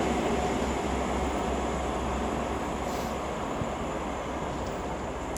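Trains pass through Oxford station, a loud continuous rumble with some high squealing, falling slightly in level over several seconds, with no one talking.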